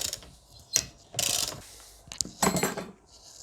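A ratchet wrench works a 15 mm bolt on the windshield wiper motor of a W220 Mercedes S320, heard as several separate bursts of close, crisp clicking with short pauses between them.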